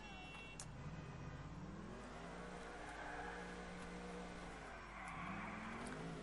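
A stolen police car in GTA IV roars along with a steady revving engine that dips and rises as it slides through a drifting turn, loud and continuous with no talk over it.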